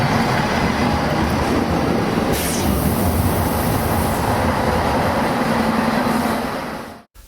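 Continuous rumble and rattle of a passenger train in motion, heard from inside, holding steady until it cuts off abruptly at the end.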